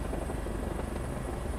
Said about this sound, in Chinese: 配合空勤总队的直升机来做我们的例行性的直升机训练作业